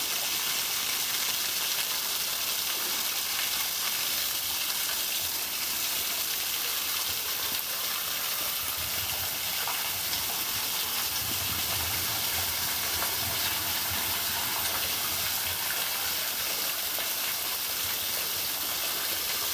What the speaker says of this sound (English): considering this waterfall's here.